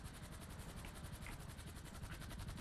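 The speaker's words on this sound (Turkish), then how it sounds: "Bir helikopter sürüyor ana" A helicopter's rotor in the video game GTA 5 thumps in a rapid, steady chop over a continuous engine drone, faint and unbroken throughout.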